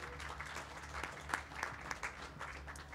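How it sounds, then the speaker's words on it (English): A studio audience at an election hacking panel discussion applauds to welcome the guests, a steady wash of clapping lasting the full three seconds with a few sharper claps standing out. "a big welcome round of applause"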